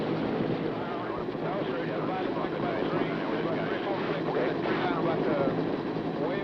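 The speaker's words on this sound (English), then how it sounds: "Up here, where the noise of the rotors drowns almost everything else out" A steady, loud roar of military helicopter rotors and engine in flight fills the whole stretch without letting up, with no talk over it.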